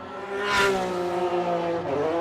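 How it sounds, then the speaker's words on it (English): A drift car at Formula Drift Irwindale qualifying blares its exhaust note, swelling to a loud revving peak then holding a harsh, steady drone with hints of tire squeal, heard from the track. "Consistent exhaust note."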